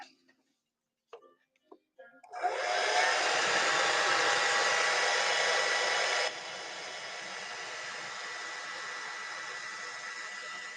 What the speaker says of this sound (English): Let me get my air dryer.